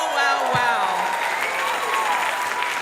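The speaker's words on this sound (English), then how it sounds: "Let's give her another round of applause." A memorial observance audience applauds steadily after a singer's performance, a dense continuous wash of clapping with a brief low tone near the start, fairly loud throughout.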